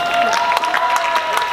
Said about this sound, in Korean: 또 저스댄스에서 배가 아픔에도 불구하고 정말 투혼을 보이셨던 우리 엑시에게 다시 한번 큰 박수 부탁드리겠습니다.